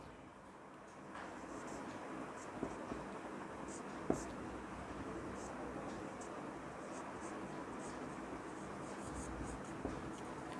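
Chalk or marker scratching on a board during a physics lecture on electric field from a semicircular ring, faint and continuous with a few small taps, under a quiet room hum.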